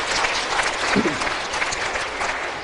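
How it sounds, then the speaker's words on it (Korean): A church congregation claps together during a sermon, a loud, dense and even wash of applause with some crowd noise mixed in, running unbroken from start to finish. "박수를 치려면 치고 말라면 막 그래요."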